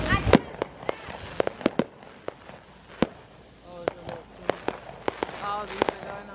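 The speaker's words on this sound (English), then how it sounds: "Mom's watching fireworks" Fireworks and firecrackers going off outdoors at a beach, sharp pops and bangs scattered irregularly, some close and loud, others fainter, with a soft background of people and footsteps.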